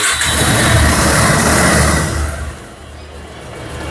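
A 2021-model used motorcycle engine runs close by with a steady mid-pitched hum, louder for the first two seconds, then easing to a quieter idle.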